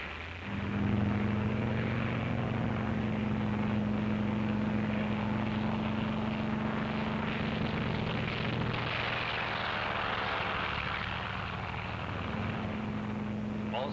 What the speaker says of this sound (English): Also taking off from the carrier are control planes that will guide the radio control drone boats.